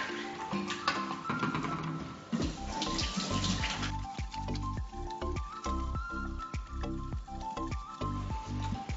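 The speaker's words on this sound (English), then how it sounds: "First things first, wash our hands." Running tap water pours continuously over hands being washed at a kitchen sink, a close splashing rush with shifting tones, no voices.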